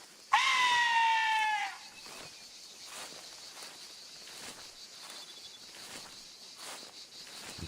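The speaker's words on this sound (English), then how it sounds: "You can't sneak up on a goat." A goat in theHunter Classic lets out one loud, drawn-out bleat at close range, followed by a faint outdoor bed of insect chirps and soft rustling.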